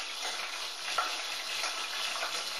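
Pork browns in a frying pan, giving a continuous soft sizzle with a small pop near the one-second mark, steady and moderately quiet with no talking.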